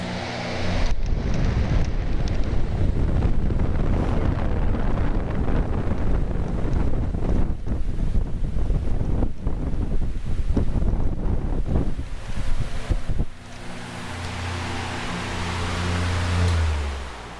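A Dayton Industrial fan switches on and spins up almost at once, then runs with a loud, steady, close-up rushing roar of moving air that eases toward the end.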